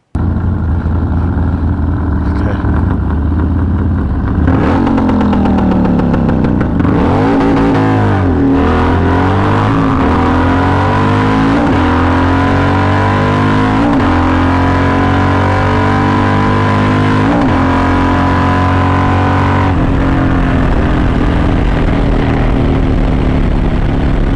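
A 2024 Harley-Davidson Road Glide roars down a quarter-mile drag strip at Maxton, North Carolina, loud and close, its engine climbing through several gears with repeated pitch sweeps and shift breaks over about twenty seconds.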